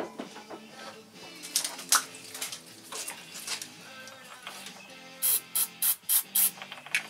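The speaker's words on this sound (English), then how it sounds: "get some carb cleaner really quick" Carb cleaner sprayed onto a Briggs and Stratton 16 or 18 hp opposed-twin carburetor during a rebuild gives five short, sharp hissing bursts in quick succession after softer clinks of handling parts.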